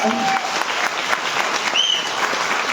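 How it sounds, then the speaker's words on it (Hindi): A seminar audience applauds on cue, dense steady clapping filling the room from start to end, with a brief whistle-like tone partway through. "एक बार तालियां बजा दे आप भी"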